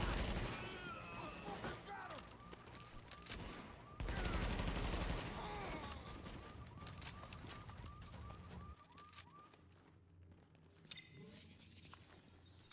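Automatic weapon gunfire in the video game The Division, with rapid bursts and fusillades of shots, footsteps and mechanical clicks over several seconds. The firing is loud at first and fades later.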